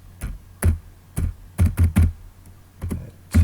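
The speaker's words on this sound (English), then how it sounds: "then just type in your name" Keys clack on a computer keyboard in a short, uneven run of about a dozen close, distinct taps with brief pauses between bursts.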